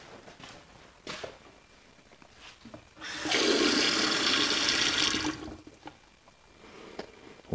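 Running water from a pumped tap in an off-grid aircrete house, a steady rushing pour for about two seconds, louder than the quiet room noise and small knocks around it.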